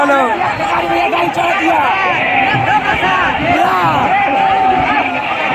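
A large, dense crowd at a rally in Siwan roars and shouts continuously, with many voices, whoops and cheers layered into a loud, unbroken wall of sound.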